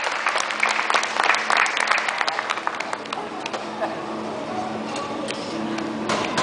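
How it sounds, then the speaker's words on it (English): Applause from the crowd at a latte art competition at a Las Vegas coffee festival, a lively round of clapping that tapers to scattered claps over room chatter. "Let's give him a round of applause"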